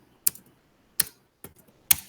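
Keys on a computer keyboard are struck in four sharp, separate clicks spaced roughly half a second apart, crisp and close against near silence.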